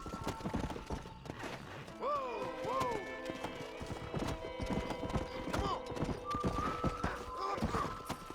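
Horse hooves clopping in the video game Red Dead Redemption, a steady rhythmic clip-clop at a trot with a whinny and game voices and music over it.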